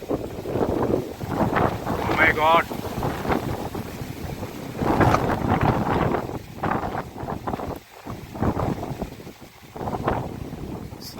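Strong wind gusts blow across a banana plantation, roaring and buffeting the microphone in uneven waves while a person talks over it.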